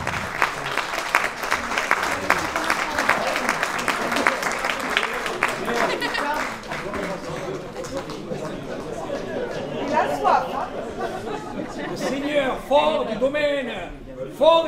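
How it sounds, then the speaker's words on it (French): An audience at an evening music and cinema event claps, loud at first and then thinning out, while people chatter and talk over the fading applause. "on peut les applaudir"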